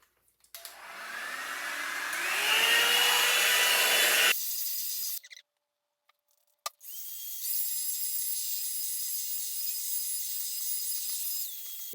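A cordless split end trimmer runs in bursts as it trims a section of hair, with a close, high-pitched buzzing whir that stops briefly and then restarts; no one talks.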